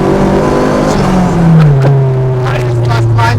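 A homebuilt Vauxhall Nova fitted with a 300bhp Astra VXR engine accelerates hard on damp roads, its loud, close engine note rising steadily in pitch through a gear, with a brief shift dip midway.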